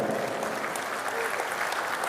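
Steady applause from a mushaira audience in Muscat, Oman, dense clapping filling the room continuously and fairly loudly, with a faint murmur of voices mixed in.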